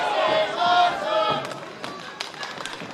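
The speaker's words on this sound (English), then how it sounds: "And the crowd's already loving it." A wrestling crowd at a live pro wrestling event cheers and roars in a broad, sustained wash, with scattered shouts and thuds poking through as the noise gradually eases.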